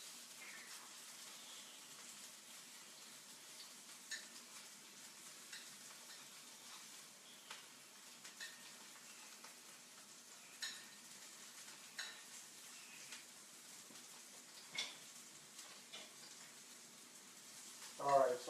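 Meatballs fry quietly in a pan with a faint steady sizzle, broken by several spoon clinks and scrapes against the pan as they are turned, ending in a louder clatter.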